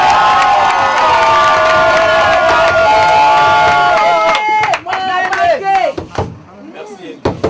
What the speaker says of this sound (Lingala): Si vous êtes d'accord avec moi, applaudissez très fort